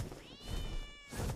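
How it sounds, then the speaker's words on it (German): A cat in the video game ARK lets out a single drawn-out, complaining meow while being carried in an Argentavis's talons, with faint background noise around it. "Ich glaube, der Katze gefällt das nicht so, am Argentavisfuß getragen zu werden."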